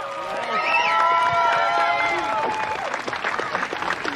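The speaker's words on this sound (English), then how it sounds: "Big round of applause for this man." A crowd at a surfing competition claps and cheers loudly for a few seconds while whistles and excited shouts rise over the steady applause.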